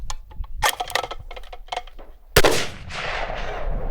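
A Savage 110 Scout rifle in .308 Win fires a single loud, sharp shot. Clicks and metallic rattles of the bolt being worked come before it, and a long echoing decay follows.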